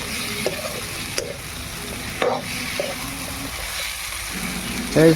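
Pork sizzling in an iron wok over a fire, stirred with several separate scraping strokes and a sharper clatter near the end, all over a steady close hiss.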